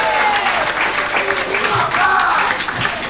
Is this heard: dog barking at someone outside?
no